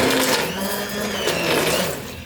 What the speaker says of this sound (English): we're gonna go in with the immersion blender to puree or make it nice and smooth.